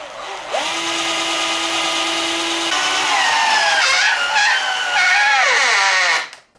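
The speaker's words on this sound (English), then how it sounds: "So what I'm going to do is I'm going to screw them together." A power drill drives long screws to join mould template pieces for an acoustic guitar build, a loud whirring whine that runs steadily, shifts pitch as the screw bites into the wood, then cuts off abruptly.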